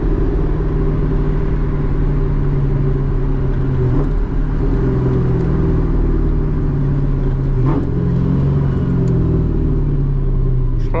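A straight-piped 2003 Mustang GT cruises along a road with its engine droning loud and steady from inside the car. The deep exhaust rumble holds constant, with slight shifts in pitch as the car moves through gears.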